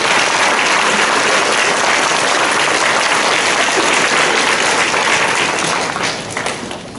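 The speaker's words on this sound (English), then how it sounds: "let's give those readers a round of applause" A concert audience applauds student readers at a 2019 spring school concert, loud dense clapping that is sustained throughout and thins slightly at the end.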